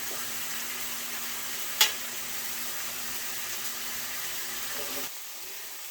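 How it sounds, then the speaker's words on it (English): Vegetables, onions among them, frying in a pan alongside pork chops and broth give a steady, close broadband sizzle with one sharp clink near the two-second mark, cutting off abruptly about a second before the end. "While the vegetables continue to fry up."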